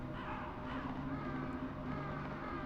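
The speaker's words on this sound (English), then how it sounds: "You can hear the beautiful crows. I'm an idiot. They're not crows, they're ravens." Ravens cawing in the video game Metal Gear Solid, heard faintly over a steady, droning game ambience with no talking.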